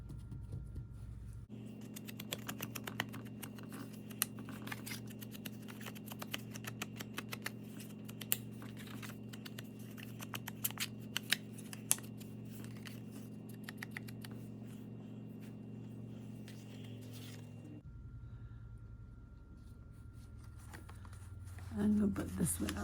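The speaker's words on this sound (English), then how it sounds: "So let's give this a little distressing." Paper edges for a sunflower journal are distressed with a steady stream of fine scratchy, clicking rubs, close and quiet, running continuously before pausing near the end, with occasional speech.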